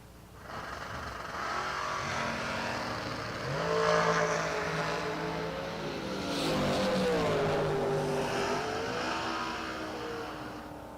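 A wheel-standing S10 pickup and a dragster run side by side at a drag strip, engines roaring at full throttle with rising and shifting pitch, heard from some distance and swelling and easing over several seconds.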